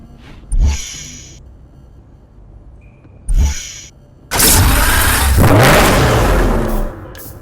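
An Aston Martin One-77 starts up in Need for Speed Hot Pursuit Remastered: two short clicks, then a loud, close engine roar that holds for a few seconds before cutting off.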